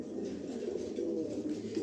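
Active, healthy short-feathered pigeons kept for sale on a farm give a steady, close chorus of low cooing that runs unbroken throughout, with no talk over it.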